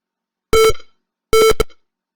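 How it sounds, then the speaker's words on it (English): Two short electronic beeps sound in isolation, each a bright buzzy tone with a quick decay, separated by brief silence. "this little thing beeps"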